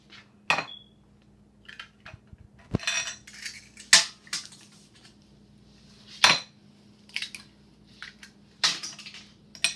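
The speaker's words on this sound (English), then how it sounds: "I'm going to beat 2 eggs." A fork clinks and scrapes against a bowl while beating two eggs for macaroni pie, irregular bright metallic taps and swishes, close and alone.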